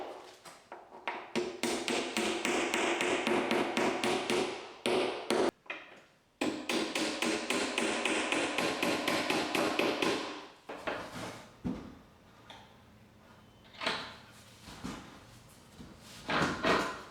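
Metal inserts being hammered into Corefix plugs in a dot and dab plasterboard wall, a long run of rapid, loud ringing hammer strikes with brief pauses, then slower, sparser knocks toward the end.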